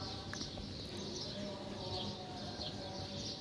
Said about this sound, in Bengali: আর পাখির ডাক শোনো, কত ভালো লাগে তাই না?